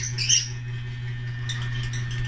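Birds chirp in short high bursts near the start and again later in a harvest-time setting, over a steady low hum, fairly faint and without talk.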